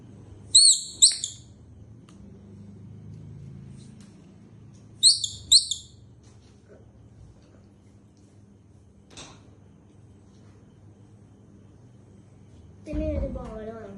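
A toy bird gives two short bursts of high, twittering chirps a few seconds apart, with soft speech in the background and a brief clatter near the end.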